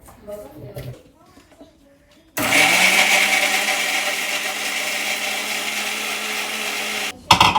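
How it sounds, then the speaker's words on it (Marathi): A mixer grinder blending boiled cashews roars loudly and steadily for several seconds, starting abruptly after quiet talk and cutting off near the end. "आता हे सगळं मिक्सरमध्ये घालून घेते"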